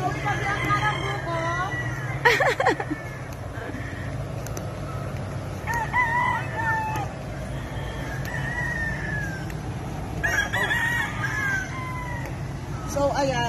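Chickens cluck and crow amid a busy outdoor scene with people talking nearby and a steady low background hum.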